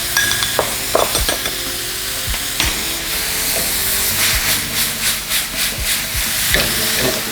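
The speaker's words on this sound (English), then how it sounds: "I'm gonna give those a quick char." Tomatoes and red onion char in a hot pan with loud, close sizzling and hissing, punctuated by scraping stirs and a rhythmic burst of spatter toward the end.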